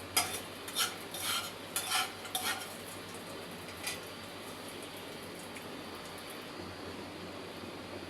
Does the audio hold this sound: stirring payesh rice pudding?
yes